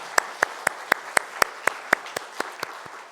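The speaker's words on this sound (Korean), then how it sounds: "영광의 박수 드리겠습니다" Slow, evenly spaced claps ring out in a church service, about a dozen sharp, separate beats with a slight echo, like a congregation clapping together in time.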